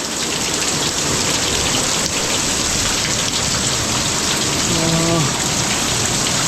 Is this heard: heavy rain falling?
yes